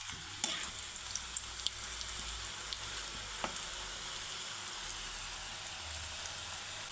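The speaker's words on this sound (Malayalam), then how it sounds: "കുറേശ്ശെ ഇട്ട് ഒട്ടിപ്പിടിക്കാതെ നമുക്ക് വറുത്തെടുക്കാം" Steady crackling sizzle of puris deep frying in hot oil, continuous and close, with a few sharper pops and no talking.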